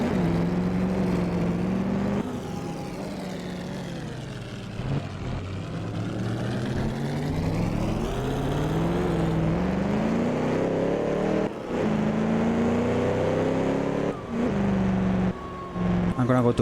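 Vintage 1938 Grand Prix race car engines roar continuously in Assetto Corsa at the Pau circuit, loud and close with rising and falling revs as the cars accelerate, shift and brake, with another car passing nearby.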